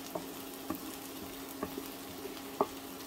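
Turkey risotto rice crackles gently in a pan once the liquid is gone, a quiet hissing bed with several distinct soft pops and ticks.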